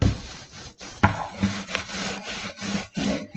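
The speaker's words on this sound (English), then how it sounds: "just squish it around underneath the cling film" Paint is squished around beneath cling film in a children's painting activity, making close, soft rubbing and crinkling strokes in an uneven rhythm with brief pauses.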